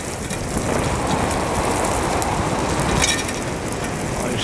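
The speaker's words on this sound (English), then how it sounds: "A little bit raining." Light autumn rain at about 7 degrees falls outdoors near a church, a steady close hiss of drops pattering on surfaces with no talking.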